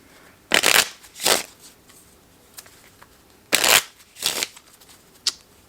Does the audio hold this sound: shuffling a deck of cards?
yes